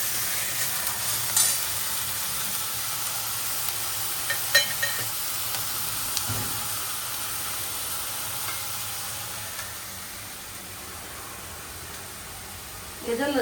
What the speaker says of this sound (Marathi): कांदा चांगला परतूया